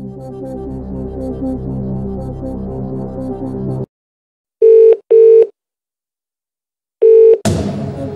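A telephone rings for the phone-a-friend lifeline in a Who Wants to Be a Millionaire video game: two quick electronic ring bursts, a pause, then a third. Music plays beforehand and starts again after the last ring.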